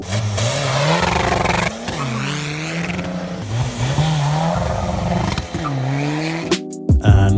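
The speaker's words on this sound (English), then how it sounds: "In today's video you will see TDI engines rolling coal." Diesel TDI cars modified to roll coal rev hard and repeatedly, engine notes climbing and dropping through gear changes, loud and close, with brief tire noise near the end.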